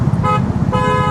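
A vehicle horn honks insistently from behind on a crowded, blocked road during a road trip, two loud, close, sustained blasts separated by a short gap over engine and traffic rumble.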